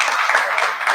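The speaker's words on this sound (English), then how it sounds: "Grandma, you can keep clapping if you want to." Steady audience applause with dense, continuous clapping at a party celebrating a five-year anniversary, holding an even, moderately loud level throughout.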